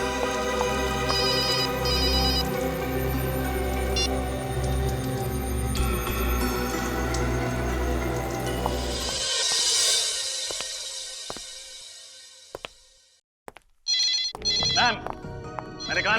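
A telephone rings loudly and continuously, then cuts off into near silence before brief sharp noises return at the end.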